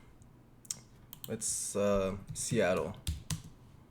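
A city name goes in on a computer keyboard: a few short, close key clicks come before and after a spoken word, with the voice dominating the middle.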